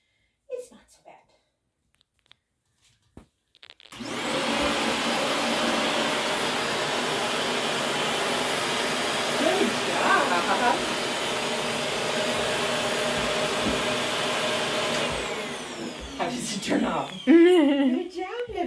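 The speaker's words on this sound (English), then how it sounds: "You want to come over here to where this vacuum is?" Vacuum cleaner starting up indoors and running at a steady, loud whine for about eleven seconds before cutting off, with someone talking softly and a puppy sniffing around it, followed by scattered handling noises.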